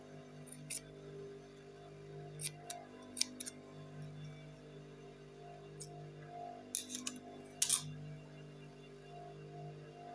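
Scissors snipping fabric at a trouser half-elastic waistband during sewing, a few short, quiet crisp cuts scattered over a low steady background hum, with no talking.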